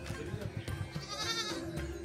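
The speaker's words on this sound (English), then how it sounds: "My baby goat." Baby goat bleating in short repeated cries amid background chatter and outdoor noise, with people talking nearby at a temple site in Kanchipuram, South India.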